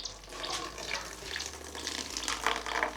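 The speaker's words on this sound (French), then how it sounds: "Parce qu'il y a un robinet ici, c'est ça? Il permet de puiser de l'eau." Water runs steadily from an outdoor tap used for washing and bathing, a close, continuous splashing stream with no talk over it.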